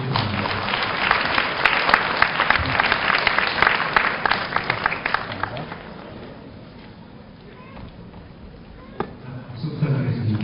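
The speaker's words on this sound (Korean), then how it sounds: "큰 박수로 축하해 주시기 바랍니다" Applause from a graduation ceremony audience at a university degree conference, dense and loud for several seconds, then thinning and fading, with a short renewed burst near the end.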